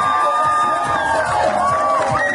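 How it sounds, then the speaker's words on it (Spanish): Supporters at a mayoral candidates' political debate in San Alejo cheer and whoop in a loud, close burst of crowd noise, with excited voices rising over the general babble. "Vamos a ver dónde está esa barra que aplaude."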